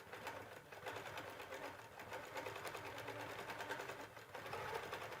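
A Q'nique 19 quilting machine sews with a steady, fast mechanical chatter of needle strokes. It runs continuously at moderate level, with no pauses.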